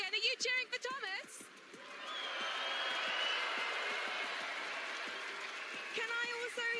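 Arena crowd at the FNCS 2023 Global Championship Fortnite grand finals cheering in a broad, sustained roar that swells and holds for several seconds after a host's amplified voice, with the announcer talking again at the end.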